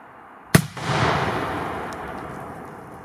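A single sharp firework bang goes off, followed by a crackling, hissing decay that fades over a couple of seconds.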